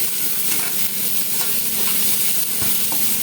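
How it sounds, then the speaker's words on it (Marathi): Chopped onions fry in hot oil with mustard seeds for kanda poha, giving a loud, continuous close sizzle with faint crackles and a soft stirring scrape, and no voices. "आणि मग ऑनियन कांदा टाकून घ्यायचा आहे, तेल उठणार नाही अशा रीतीने।"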